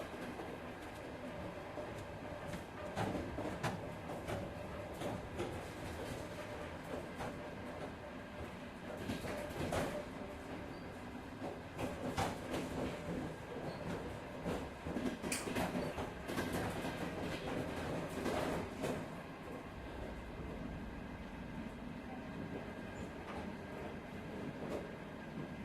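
A train runs inside a VR game, with a steady rolling rumble, rhythmic clickety-clack of wheels and occasional sharper clatters over a bit more than twenty-five seconds.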